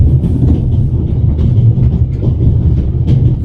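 A train in the video game The Raven: Legacy of a Master Thief rumbles steadily along the rails with a continuous low roar and faint clattering, close and loud throughout.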